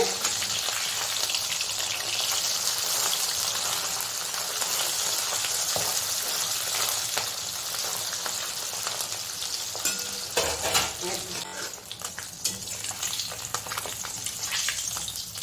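Fish fries in a pan over a weak gas burner, giving a steady, close sizzle with soft crackles that runs unbroken and grows slightly rougher toward the end.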